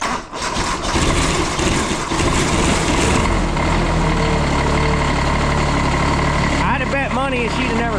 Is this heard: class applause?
no